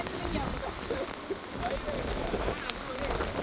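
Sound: heavy rain falling on the beach

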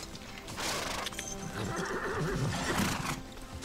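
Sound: horse neighing

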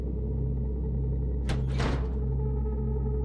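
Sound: big door opening in a video game

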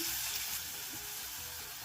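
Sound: carrots and onions frying in oil

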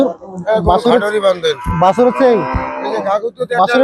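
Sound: Sahiwal cross or local cow at a cattle market

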